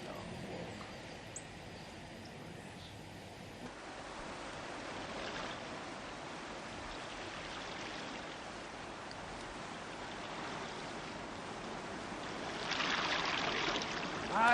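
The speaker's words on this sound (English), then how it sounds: "That's the river tumbling over some rocks about a mile below us. There's a fall in the river." A river tumbling over rocks at a fall about a mile below in wooded country gives a steady, distant broadband rush that holds evenly throughout and swells slightly toward the end.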